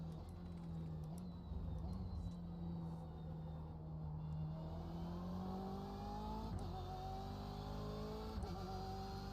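A small, loud race car engine in the iRacing driving simulator holds a steady, droning note, then climbs in pitch as it revs up through several rising sweeps, with no speech over it.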